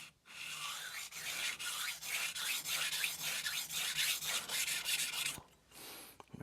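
A Tsunehisa 165mm knife is sharpened on the 1000 grit side of a Cheefarcuut sintered vitrified stone, producing close, rhythmic gritty scraping strokes in a steady back-and-forth pattern that stop near the end, with no talking.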